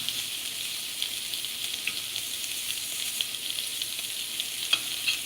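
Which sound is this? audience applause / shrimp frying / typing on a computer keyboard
shrimp frying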